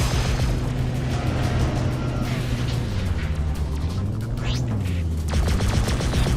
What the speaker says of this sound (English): Shield failed. Incoming missile.